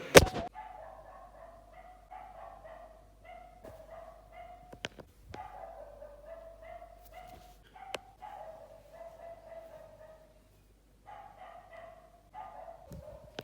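A street dog barks and yips over and over at close range, in uneven bursts with short pauses, against a quiet background with no talking.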